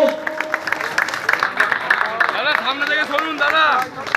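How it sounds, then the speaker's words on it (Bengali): Crowd applause greets former cricketer Sourav Ganguly at a Durga Puja inauguration in Kolkata, a steady patter of clapping running under an announcer speaking loudly over the audience. "একটা ভীষণ বড় হাততালি হোক"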